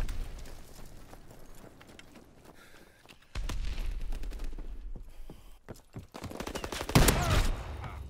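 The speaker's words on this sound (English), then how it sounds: "Bullets just hit the stairs next to me" Rapid gunfire in a Call of Duty WW2 match, with sustained automatic bursts and sharp nearby shots, including a Lewis gun, cracking in clusters and swelling loudest near the end.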